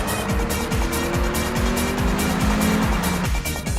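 Tires squeal in long sliding streaks as a 2001 BMW Z3 Coupe with a five-speed manual corners hard on a skid pad, the engine droning steadily beneath, loud and close.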